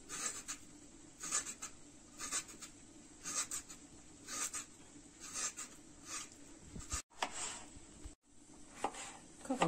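A knife chops peeled zucchini on a cutting board in a series of quiet, evenly spaced taps, a few strokes per burst, close and faint.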